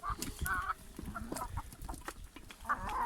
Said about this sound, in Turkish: Tavuklarımız böyle hepsini yiyorlar.